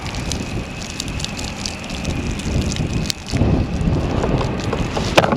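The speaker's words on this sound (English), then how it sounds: "Whoops, there goes the wind." Gusty spring wind blowing across an outdoor garden plot, a steady broadband rush buffeting the microphone with a brief lull and then a stronger surge, no voices.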